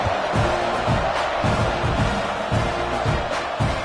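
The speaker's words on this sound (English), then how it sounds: "this crowd is buzzing after that last score" A football stadium crowd roars and buzzes in a steady, loud wash after a touchdown at a rivalry game, with rhythmic chanting swells pulsing through the noise.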